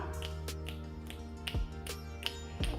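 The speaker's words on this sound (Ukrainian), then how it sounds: "Ми будемо з вами щелкати" Finger snapping in a children's music rhythm game, sharp clicks spaced about every half second at a steady beat over a sustained musical backing, with a few louder thumps.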